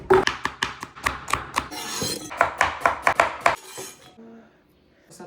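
A knife chops onions, bell peppers and hot chili peppers on a board for a shrimp meal: about a dozen crisp, evenly paced strokes close by, broken by a brief scrape, then quiet.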